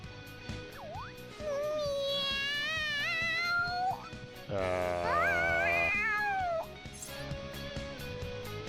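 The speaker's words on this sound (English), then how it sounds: "The cat's acting awfully excited." A cat in the video game Persona 5 Royal meows excitedly, with two long, rising and falling cries, each several seconds, standing out clearly over soft game background music.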